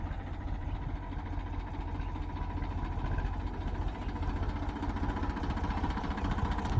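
A tractor engine running steadily at a low, even rumble, continuous and moderately close, with no talking over it.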